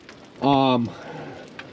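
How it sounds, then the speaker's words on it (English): Rain patters steadily in the background on a farm during a corn silage harvest, interrupted by a short tonal vocal sound. "As you can see, it's raining."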